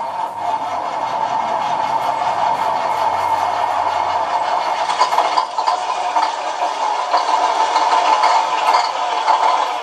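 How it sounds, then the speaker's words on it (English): Engine sound from a Beier model sound module plays as a steady electronic motor hum with a faint rattling idle texture, a low rumble fading out early and slight clattery variations later, continuous and fairly close. "We have engine."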